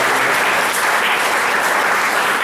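Sustained applause from an audience at the Atul Award 2014 ceremony, a dense, steady wash of many hands clapping at even loudness throughout, with no voices standing out.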